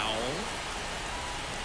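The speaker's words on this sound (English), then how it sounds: "it's raining hard" Steady, dense hiss of heavy rain in the baseball video game MLB The Show 24, a constant wash of noise with a brief faint tonal sweep at the start.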